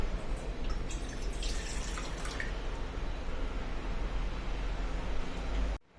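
Water runs and drips continuously at moderate volume, a steady liquid pour with a brief cutoff near the end, as water is added for dissolving sugar for shankarpali dough.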